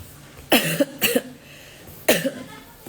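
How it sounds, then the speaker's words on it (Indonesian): Three harsh coughs from one person nearby, two in quick succession and then a third after a short pause. "Aduh kok batuk mbak?"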